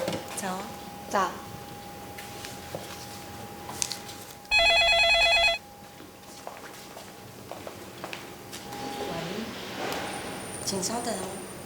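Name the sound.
telephone ringing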